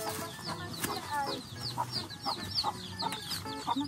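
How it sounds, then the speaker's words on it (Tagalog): Several chickens cluck and murmur close by in a coop in a busy, overlapping chorus, with short sharp clucks scattered throughout. "andito po ang kulungan ng manok ni Edwin"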